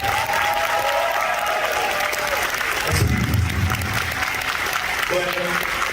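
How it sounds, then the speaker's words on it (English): Audience clapping at an anime convention panel, a broad wash of applause from a crowd that swells briefly midway while a voice talks over it. "we need to give him a round of applause"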